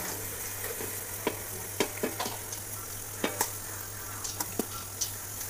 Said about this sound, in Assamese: এতিয়া মই যিখিনি ৰাইচ আছিলে ইয়াতে মই এড কৰিম।